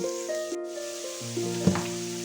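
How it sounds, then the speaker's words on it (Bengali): Potatoes frying in oil sizzle steadily throughout, with a brief louder crackle near the end; no talking. "এরপরে একটুখানি আলুটাকে ভাজবে"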